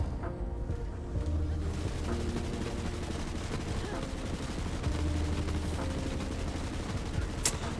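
Assault rifle firing in Borderlands 3, a dense, continuous rattle of rapid shots with booming low thuds throughout, steady and loud from start to finish.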